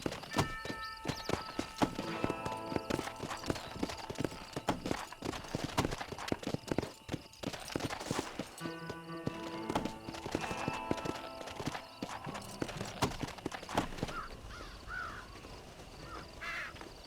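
Horse hooves clip-clop at a steady trot while riding in the Western video game Red Dead Redemption, with quick rhythmic beats over game sounds, including crows cawing and an occasional whinny.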